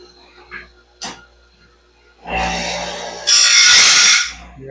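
A standard grinding stone grinds a Stellite tooth on a Norwood saw band, giving a loud, rough grinding burst that builds and then grows harsher for a couple of seconds after a few faint knocks.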